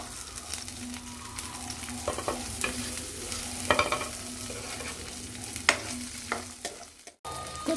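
Sweet corn and peanuts stir-fry in a pan for capsicum rice, a continuous close sizzle broken by repeated spatula scrapes and clicks, ending in a brief dropout.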